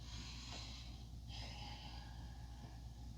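Slow, deep breaths in a home yoga session focused on working toward the splits, soft airy inhales and exhales over a steady hiss, fairly close with no talking.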